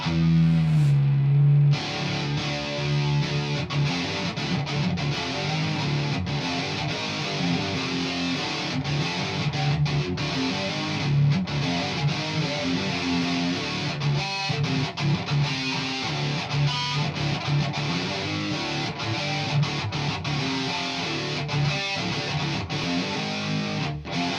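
Distorted electric guitar tuned to drop D plays through a Quilter 101 Reverb Mini Head, loud and close, with chugging riffs and sustained chords continuing throughout without speech.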